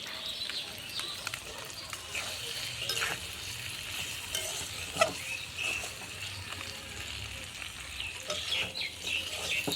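A spatula scrapes semolina around a pan over a quiet background of frying for vegetable upma with cashews, in soft, uneven strokes that continue throughout at a low level.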